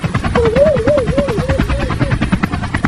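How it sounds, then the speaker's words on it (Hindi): A cartoon helicopter starts up and flies, its rotor chopping in a fast, steady low thudding pulse with a wavering engine whine rising and dipping over it, loud and close throughout. "मेरा हेलीकॉप्टर अपने आप कैसे चालू हो गया?"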